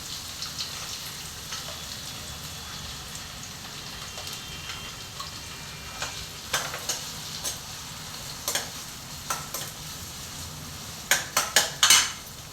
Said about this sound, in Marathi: कांदा परतून घ्यायचा, कांदा टाकायचा तेलामध्ये.